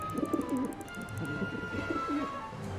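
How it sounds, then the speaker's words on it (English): A pigeon in the video game Syberia 4 coos in repeated soft, low, throaty phrases, steady and close over a faint ambient hum, with no speech. "How am I supposed to get rid of that pigeon?"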